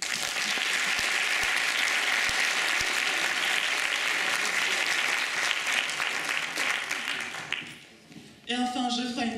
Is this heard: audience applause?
yes